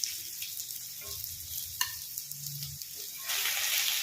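Seela fish frying on a flat tawa, a steady close sizzle and crackle of oil with faint clinks of a utensil, growing louder and brighter toward the end.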